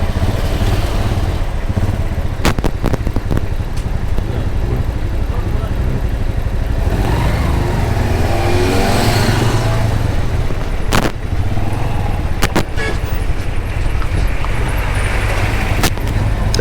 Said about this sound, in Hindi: कितनी ट्रैफिक है इस साइड पे तो बहुत लग रही है।